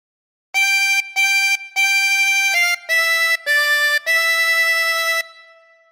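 A harmonica plays a phrase of Hark the Herald Angels Sing, seven clear sustained notes in a row with short gaps, loud and close, the last note held longest before fading.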